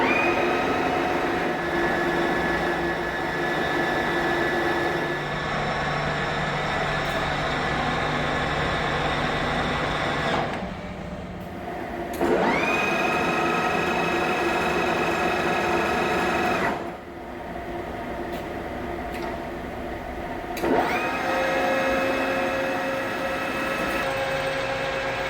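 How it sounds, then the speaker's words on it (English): A 150 mm, 12-insert shell mill on a milling machine running at 152 RPM, cutting a grader blade slide rail, gives a steady loud whine with tonal harmonics. It briefly drops out twice and then resumes, with no talk. "I'm going to bring the head down and move the table all the way to one end before we start cutting"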